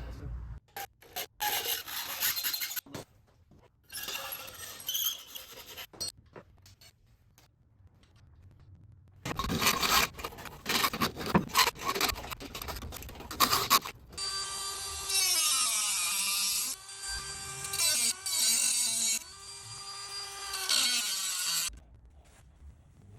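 Metal parts for a RANS S-21 light aircraft boot cowl are cut in a workshop, with bursts of rasping, grinding tool noise separated by pauses, ending in a long, loud, shrill whining cut.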